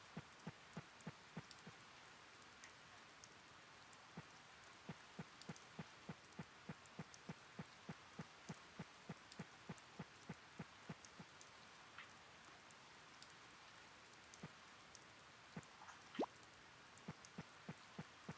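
Steady rain patters down in a video game as the rainy season begins, with dense, even drops and a run of sharp drip-like ticks throughout, heard alone with no talk.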